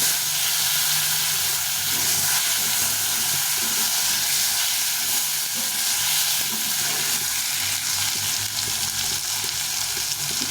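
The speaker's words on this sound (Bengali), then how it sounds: "এখন এই তেলে শুকনো লঙ্কা সাদা জিরে আর তেজপাতা দিয়ে এখন আমি এই টমেটো কেটে নিয়েছি একটা টমেটোটা ভেজে নিয়েছি" Tomato fries in hot oil with dry red chilli, cumin and bay leaf, a loud, dense, continuous sizzle with steady hiss that holds without a break, and no talking.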